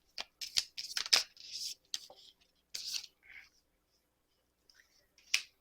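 Tarot cards are shuffled and one is drawn, with crisp riffling flicks and sharp papery snaps in quick bursts up close, then a pause and a final single card snap.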